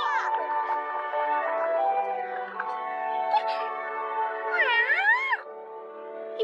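Several drawn-out, wavering meows from a young kitten, close and fairly loud, one after another with a rising and falling final cry.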